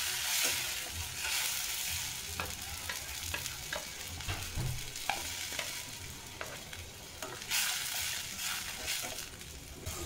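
Mixer-ground masala stirred into hot oil with cumin, a soft continuous sizzle broken by scraping and stirring clatters from the pan, with no voices.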